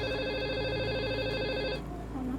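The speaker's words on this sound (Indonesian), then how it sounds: "Mana telepon tuh?" A telephone rings with a steady electronic trill close by for nearly two seconds before the ringing cuts off, leaving a quiet room.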